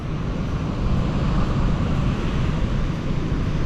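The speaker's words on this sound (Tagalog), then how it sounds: "Malakas po yung alon." Constant, loud broadband rumble of strong wind buffeting the microphone at Casapsapan Beach, Casiguran, Aurora, with a low churning wash of rough sea waves beneath it and no speech.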